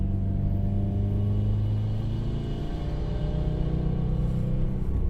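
Subaru cars pass by on a winter road, a steady low engine rumble and tire hiss swelling and fading at moderate distance, with no voices.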